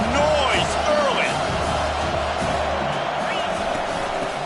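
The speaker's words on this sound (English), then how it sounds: "This crowd bringing the energy and noise early." Dense, roaring stadium crowd noise in a college football video game against Michigan, continuous and loud, with whoops and scattered cheers beneath a commentator's voice.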